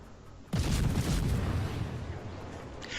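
Warship guns fire in a World of Warships naval battle aboard the Akizuki destroyer, a sudden heavy blast that rolls into a broad, sustained rumble fading slowly under the game's background hum.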